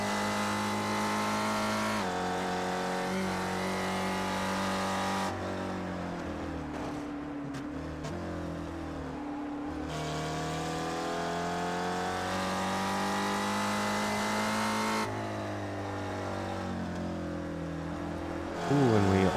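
Spec Racer Ford race cars lapping the Nürburgring Nordschleife, sustained engine drone with rising and falling pitch through gear changes, steady and fairly close, with a commentator talking over it.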